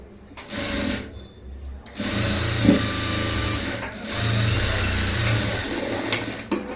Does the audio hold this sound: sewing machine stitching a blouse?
yes